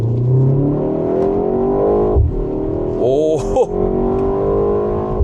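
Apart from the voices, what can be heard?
Hyundai Avante N in sport mode, exhaust pops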